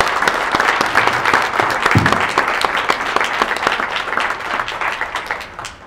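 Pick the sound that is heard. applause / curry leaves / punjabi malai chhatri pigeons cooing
applause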